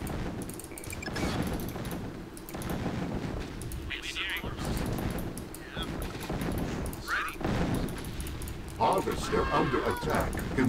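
Anti-air gunfire rattles in a real-time strategy game on the Waveloop Canyon map, coming in scattered bursts and crackles under frequent player talk.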